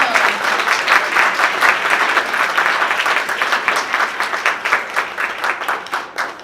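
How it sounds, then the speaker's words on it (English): A crowd at a D.D.S. 2018 gathering claps steadily throughout, a loud, even roar of many hands with no voices standing out. "Let's give them another round of applause."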